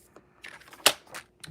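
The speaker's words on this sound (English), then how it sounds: "I'm going to take this white piece here and I'm just going to cut this just like so" Scissors snip through a sheet of white cardstock during card making, one sharp close cut standing out among a few quieter rustles and clicks of handled paper.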